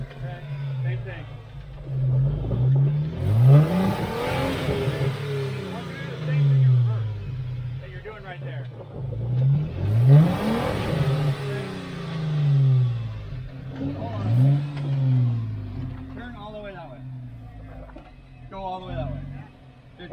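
A Jeep Wrangler JK engine revs in repeated surges as it climbs onto an off-road obstacle, rumbling and rising several times, with people talking over it.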